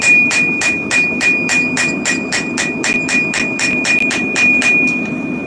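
Rapid, steady hammer blows ring out close by on metal at a forge while a knife blade is shaped, each strike sharp and metallic in an even rhythm with a constant high ringing tone underneath.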